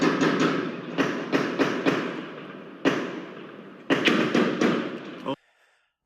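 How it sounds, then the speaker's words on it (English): Gunfire outside a federal courthouse in Dallas: a rapid string of loud, sharp shots, a pause, a single crack, then another fast volley before sudden quiet. "Shooting down here right now. Shots fired, shots fired."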